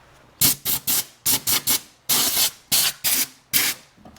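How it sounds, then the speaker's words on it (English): Short bursts of compressed air blast grit off a Subaru Outback transmission during a solenoid replacement, about a dozen sharp hissing puffs in quick irregular succession, loud and close. "we're gonna blow around with some compressed air because we don't want any grit falling into our transmission"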